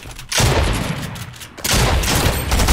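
Loud bursts of video game gunfire, two sustained volleys of shots separated by a brief lull, close and dense.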